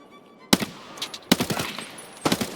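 Guns fire at a scav in Escape from Tarkov in three sharp, loud bursts of rapid shots with short quiet gaps between them, each burst ringing out briefly.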